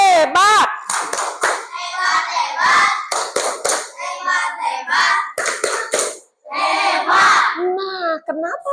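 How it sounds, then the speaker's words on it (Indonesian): Children in a classroom clapping a rhythmic clap routine together, sharp bursts of claps mixed with chanting children's voices, loud and close. "Tepuk hebat."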